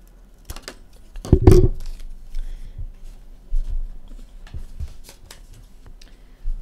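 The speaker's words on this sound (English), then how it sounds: "So now I'm going to cut that shape out." Scissors snip out a drawn shape from a sheet of paper, a short burst of close, crisp cutting followed by quieter rustles and faint handling sounds.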